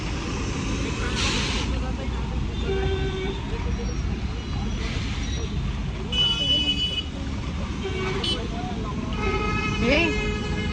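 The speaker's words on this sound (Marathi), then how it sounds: "हे हॉर्न नको वाजव." A car horn honks a few times on a busy road, the short bursts rising over steady traffic noise while people talk nearby.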